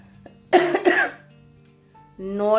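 A person with a persistent cough gives a short burst of two or three loud, close coughs, followed after a pause by a brief stretch of voice.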